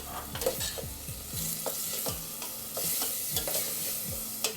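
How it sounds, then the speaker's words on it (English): Chorizo sautés with oregano, turmeric, paprika and salt in a pan, giving a steady close sizzle broken by repeated scraping stirs of a utensil, with no talk. "Let it saute for another minute or so."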